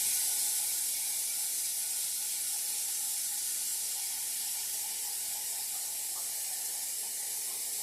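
Steady, even hiss of steam from a pot steaming broccoli in a home kitchen, continuous and unchanging throughout with no talking.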